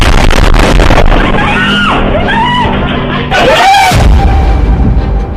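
A bomb blast in Tel Aviv, heard as loud, dense booming and crackling under a news voice-over, with dramatic whooshing effects and continuous rumble throughout.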